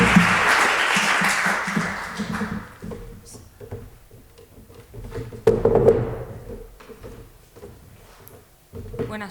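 An audience claps at a literary talk, starting fairly loud and dense, then thinning out after a couple of seconds into scattered thumps, shuffling and low murmur.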